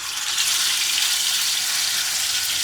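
Chicken frying in hot oil in a home Kerala kitchen, a steady, dense sizzle that holds even and fairly loud throughout, with no voices over it.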